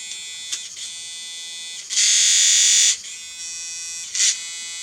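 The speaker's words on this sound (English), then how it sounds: "that's the motor turning there" A small battery-powered motor whirs steadily at close range, holding a constant buzzing tone, then surges louder for about a second before dropping back, with a brief spike near the end; no talking.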